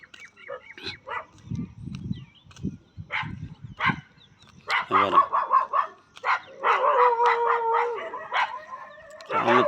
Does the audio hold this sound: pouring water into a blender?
no